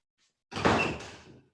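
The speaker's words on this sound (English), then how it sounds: "let me just shut my door real fast." A room door swings shut with a single solid close, a brief thud followed by a fading rattle, heard alone in a quiet indoor space.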